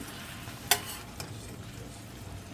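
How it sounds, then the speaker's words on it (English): Yellow squash and onions sauté in a pan with a soft, steady sizzle, punctuated by a sharp utensil clink and a fainter knock of stirring. "I'm going to put a lid on this and let it saute until those are done"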